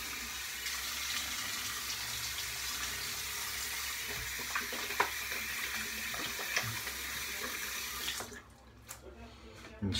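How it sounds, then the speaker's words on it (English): Running tap water splashes continuously at a sink while a man wets his face before a straight-razor shave, a close, steady gush that stops abruptly near the end. "go ahead and throw some water up on my face"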